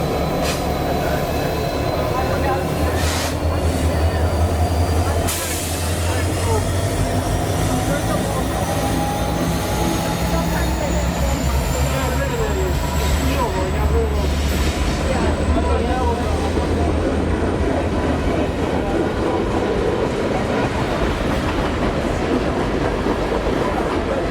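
A Union Pacific local freight train on its return trip at the Rochelle Railroad Park, hauling empty refrigerator cars and a boxcar. It rumbles steadily and loudly past nearby, with wheel clatter and a rising squeal throughout.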